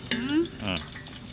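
Cinnamon bark and whole spices fry in hot oil for a Christmas biryani, a short burst of sizzling and crackling with a brief rising whistle-like tone near the start, close and fairly loud.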